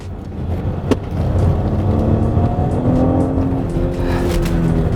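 A 2021 Porsche Cayenne E-Hybrid pulls away in second gear, its engine note rising steadily and loud as the SUV accelerates close by, with a sharp knock early on.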